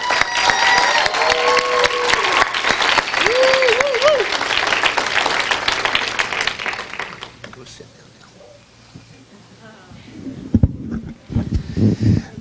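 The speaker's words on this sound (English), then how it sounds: "Give her a hand clap." Audience applause and cheering fill a school awards and graduation ceremony hall as a lone graduate receives her diploma, loud and sustained with a few voices calling out, then fading to quieter murmurs and shuffling near the end.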